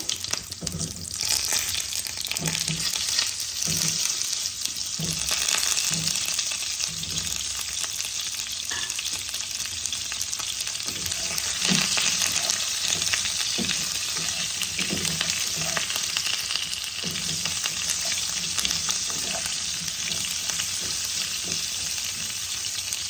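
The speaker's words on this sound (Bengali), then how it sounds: "পটলগুলোকে ভেজে নেব।" Pointed gourds (potol) frying in a pan produce a long, even sizzle, punctuated at irregular intervals by soft stirring and scraping strokes.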